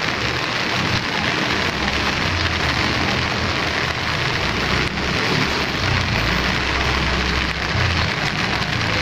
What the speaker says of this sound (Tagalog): So natutuwa naman po ako at umulan.